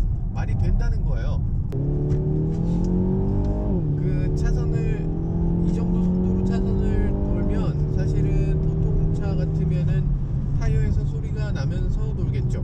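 A Renault Samsung SM6 cornering at high speed, its engine a steady close drone whose pitch steps and slides as revs change, with a voice talking over it throughout.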